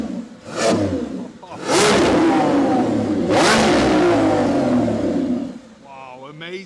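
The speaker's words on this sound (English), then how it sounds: "it's actually time to be listening to the sound from the V12 Revuelto. Also from the outside." A Lamborghini Revuelto V12 engine, heard from outside, barks through three sharp throttle blips followed by a long sustained high-rev roar that falls away, loud and close, with a voice briefly audible near the end.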